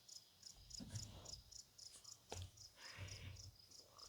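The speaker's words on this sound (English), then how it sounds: "hearing crickets, birds," Crickets chirp in a steady, evenly spaced pulse outdoors, fairly quiet, with soft low rustling and a few faint thumps beneath.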